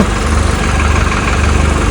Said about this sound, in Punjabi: ਲਾ ਜੀ ਲਾ ਕੇ ਜੋਰ ਨੇ ਦਿੱਤੇ ਟਰੈਕਟਰ ਤੇ ਟਰਾਲੀ ਕੱਢ